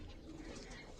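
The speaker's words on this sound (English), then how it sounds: "And then here are pigeons." Pigeons at a bird farm give soft cooing calls, faint and low, over quiet background room noise.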